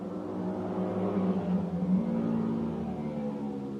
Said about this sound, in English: somebody with a, like, just revving their engine to pieces come past